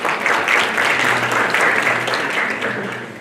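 An audience at a regional workshop on positive masculinity and gender-based violence claps for partner organisations in a brief, steady round of applause that slowly tapers off.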